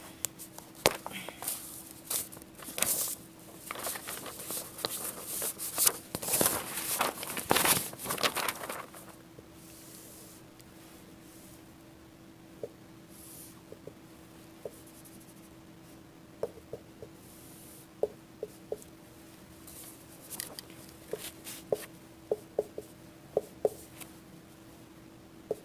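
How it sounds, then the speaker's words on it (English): Pen scratching quick strokes across paper while drawing a physics diagram, with busy dense scribbling early on, then sparse isolated taps and short marks over a steady low hum, close and fairly quiet. "let me draw the diagram first."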